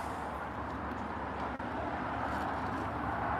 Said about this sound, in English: You guys can hear the traffic, the unfortunate traffic in the background here in Florida.